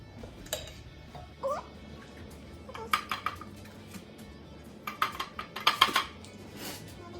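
A spoon mixing butterscotch birds' nest mixture in a bowl, with scattered clinks and scraping knocks against the bowl that come in irregular bursts, busier toward the end, with faint sounds of people nearby.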